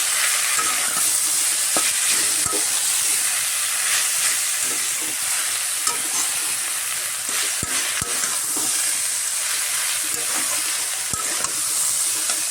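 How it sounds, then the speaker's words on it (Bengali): Boiled banana flower, fried potato and eggplant, and prawns are mixed with spices in a hot pan. A steady loud sizzle runs throughout, broken by repeated scraping and clacking strokes of the spatula. "সেদ্ধ করে রাখা মোচা, ভেজে রাখা আলু বেগুন আর চিংড়ি মাছ, সব এর মধ্যে দিয়ে ভালো করে এইভাবে মশলার সাথে মিশিয়ে নেব"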